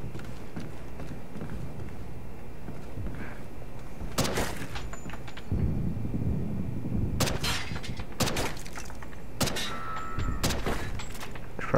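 Gunfire in Call of Duty: Ghosts, several separate loud bursts of shots breaking out over a steady game background of footsteps and movement, with gaps of quieter ambience between volleys.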